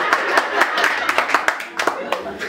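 Guests at a house-warming in a village clap together in a quick, steady rhythm, loud and close, with voices talking over the clapping.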